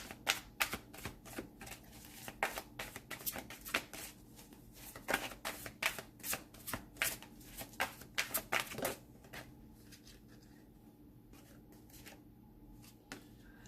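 Tarot cards being shuffled and drawn for a reading, a dense run of quick papery flicks and riffles up close, thinning out near the end into scattered soft taps.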